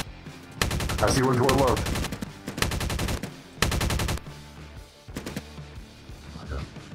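Bursts of automatic gunfire in a Revenant Squad shooter game, several loud rapid volleys separated by short pauses, with a voice speaking briefly between them.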